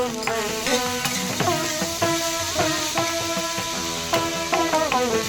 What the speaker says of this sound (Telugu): ఇదే బాండీలో 2 స్పూన్ల నూనె వేశాక కట్ చేసి పెట్టుకున్న దొండకాయ ముక్కలు వేసుకుందాం